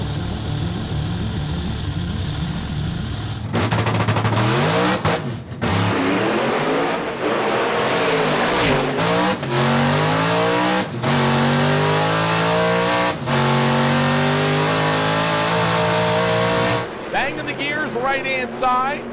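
A stick-shift 1955 Hemi-powered Chevy drag car revs hard and accelerates down the strip, its engine note climbing through several gear changes, loud and close, with commentary talking over it.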